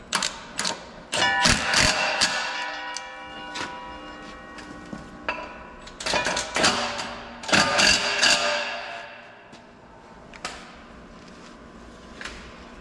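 Repeated ratcheting clicks and metallic clanks of a wrench tightening bolts on planter parts, busy and close, in bursts over about twelve seconds.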